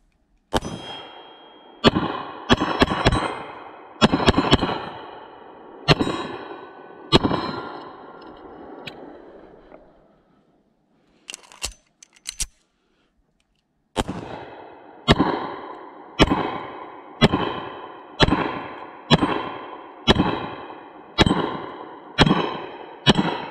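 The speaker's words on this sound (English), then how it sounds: "back inside from shooting the Smith 5906" Smith & Wesson 5906 pistol fired at steel targets outdoors: a run of sharp, loud shots with ringing clangs, a pause, then a steady string of evenly spaced shots, each followed by a metallic ring.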